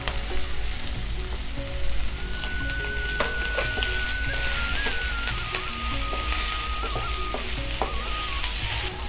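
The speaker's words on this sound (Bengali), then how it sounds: "এবার বন্ধুরা ক্যাপসিকামগুলো দিয়ে দেব, দিয়ে ভালো করে ভেজে নেব" Capsicum and tomato frying in a pan, giving a loud, dense, unbroken sizzle with occasional stirring clinks and a faint thin whistle-like tone running through it.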